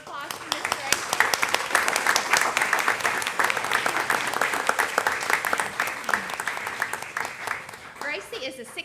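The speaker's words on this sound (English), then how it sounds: "Round of applause for Miss Gracie." Audience at a city council meeting applauds a first-place student art winner with sustained, dense clapping for about eight seconds, a voice speaking briefly at the end.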